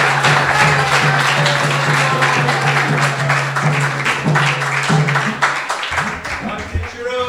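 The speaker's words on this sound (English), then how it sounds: "Please give a applause to Maharaj." Steady applause from a gathered audience at a spiritual talk and kirtan for Bhakti Charu Swami Maharaj, dense clapping running for several seconds before thinning out near the end.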